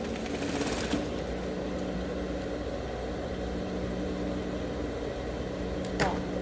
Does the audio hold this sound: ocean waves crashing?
no